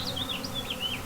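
A honeybee swarm being rehomed buzzes and fans steadily, with several close bees whining at shifting pitch over a continuous low hum and no talking.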